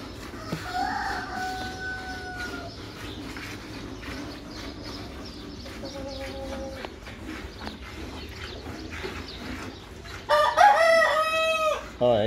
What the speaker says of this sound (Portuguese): Cai no curral e ainda mais no canto de galo que é bonito.